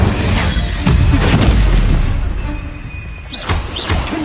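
Incendio fire spell cast in Hogwarts Legacy, heard as a loud booming burst with heavy thuds and crackling impacts, fading then followed by a smaller hit near the end.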